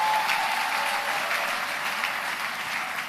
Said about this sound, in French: il y a les sœurs qui applaudissent malgré elles